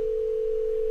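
Steady synthesized tone shaped beyond a pure sine wave, holding one constant pitch at even loudness for the full second, alone with no talk.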